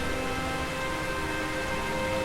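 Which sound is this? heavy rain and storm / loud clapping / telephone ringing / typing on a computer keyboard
heavy rain and storm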